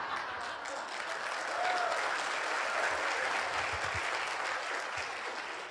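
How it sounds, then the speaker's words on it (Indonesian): An audience at a seminar claps on their chests in a sustained, dense burst of applause that holds steady for several seconds before easing slightly, with a faint voice underneath. "Tepuk tangan itu yang benar di dada."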